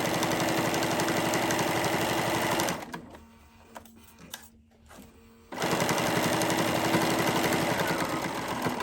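A sewing machine stitching a seam with a flat-felled foot: a loud, fast, steady mechanical whir that stops for a few seconds of near quiet with small clicks, then starts again at full speed.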